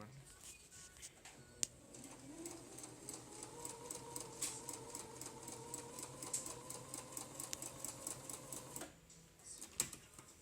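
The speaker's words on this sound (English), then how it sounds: "You're going to go back to the sewing machine and sew it right close to the edge all the way down" A sewing machine stitching a hem close to the edge of a prayer quilt, its steady, moderately quiet mechanical hum running for about seven seconds, with faint clicks and soft handling noises before and after.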